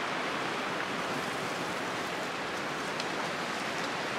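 Strong wind roars through a forest at night, a dense, steady rushing hiss with no breaks, loud and close.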